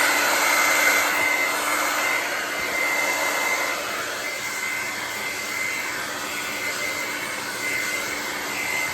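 A hair dryer blows in a steady, loud broadband whoosh with a faint high whine, running continuously while hair is styled into a sleek ponytail, with no talking over it.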